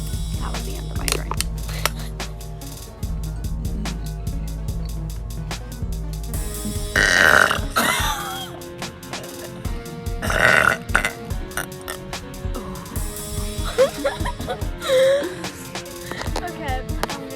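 A girl lets out several loud burps, strained and gurgling, between stretches of talking over background music.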